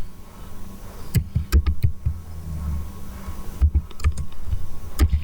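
Typing on a computer keyboard, with scattered close key clicks in short bursts separated by brief pauses, no speech over them.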